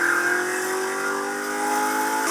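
A 1965-66 Ford Mustang with a 289 V8 and Black Widow Venom exhaust with an X pipe revs, a sustained high-pitched engine drone that holds steady and loud for a couple of seconds.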